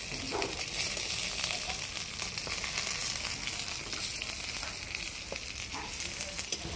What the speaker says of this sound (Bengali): আবারও এক সাইডে আমি আরেকটু ভেজে নেব।